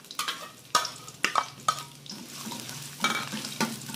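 Chopped shallots and garlic hitting hot oil for martabak filling, a close crackling sizzle punctuated by several sharp scrapes and clinks of a spatula stirring, with no talk.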